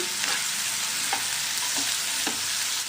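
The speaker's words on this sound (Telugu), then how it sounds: "ఇది ఉల్లిపాయ పచ్చిమిర్చి వేసి ఫ్రై చేసుకుందామండి కలుపుతూ ఫ్రై చేసుకోవాలి" Onions and green chillies frying in hot oil while being stirred, a steady loud sizzle with a few soft scrapes of the spoon, no voices.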